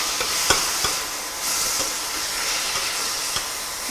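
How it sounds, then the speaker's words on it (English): Onions fry and sizzle in a pan, a continuous close hiss broken by a few soft knocks of a spoon stirring them. "Just going to stir that."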